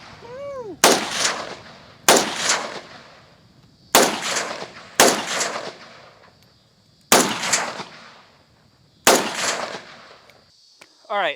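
Real rifle, apparently an AK, fired at a target outdoors, six sharp loud shots spaced about one to two seconds apart, each with a ringing decay, plus a brief murmur of voices.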